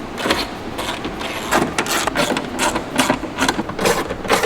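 Nuts are tightened on the window regulator tracks of a 2013-2017 Dodge Viper, a loud, close, continuous run of rapid ratcheting clicks without pause.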